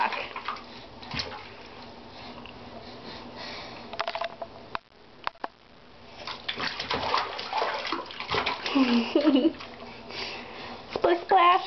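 Water sloshing and splashing in a bathtub as a small child is bathed, intermittent close splashes and trickles that grow busier later, under an adult's voice talking.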